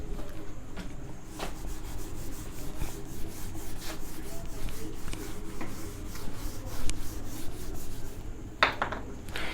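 Writing being rubbed off a board, a continuous close scraping and rubbing with irregular strokes and a few sharper scuffs, moderately loud, no talk.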